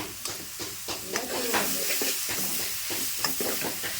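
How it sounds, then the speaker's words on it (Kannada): Cluster beans (chavalikai) frying in a pan for a village-style palya, a soft steady sizzle and hiss broken by irregular scraping stirs and light clinks. "ಚೌಳಿಕೆ ಏನು ಫ್ರೈ ಆಗಿ ಅವ"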